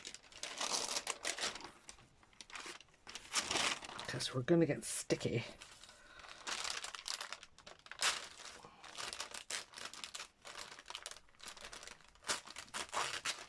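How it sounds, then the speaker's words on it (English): Parchment paper sheets crinkle and crumple in bursts, close and papery, interleaved with a person talking. "I've got 2 pieces of parchment paper."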